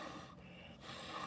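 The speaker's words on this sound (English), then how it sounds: "I can even blow my nose." A short, forceful nasal blow of rushing air, close and fairly quiet, with a brief pause in the middle and no talking.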